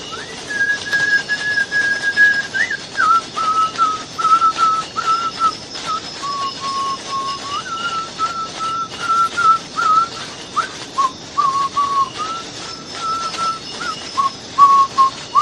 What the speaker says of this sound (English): Now he goes back to the whistling